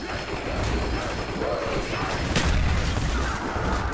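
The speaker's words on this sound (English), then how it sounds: "Grenades take too long to blow up." A grenade goes off in a zombie video game as a short, sharp burst followed by a low boom, set against constant busy gameplay noise.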